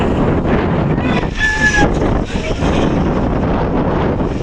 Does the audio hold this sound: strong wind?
yes